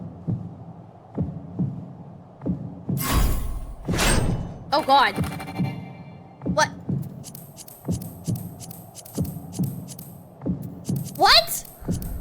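Low, regular thumping heartbeat sound effect in Final Fantasy XIV during a cutscene where the character loses consciousness, pulsing steadily under game music tones while a person reacts aloud.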